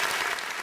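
A short burst of applause from a small studio audience at a podcast taping, dense clapping heard alone at moderate level.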